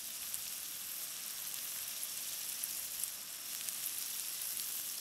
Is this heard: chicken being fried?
yes